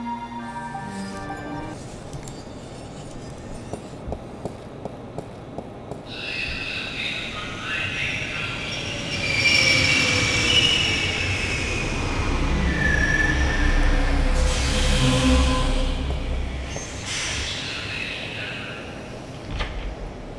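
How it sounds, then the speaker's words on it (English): Metro Line subway train in the adventure game The Longest Journey, a steady rumbling ride with rising surges of rail noise and occasional high squeals over a low hum, with no talk. "I'm gonna have to catch the Metro Line subway to get there."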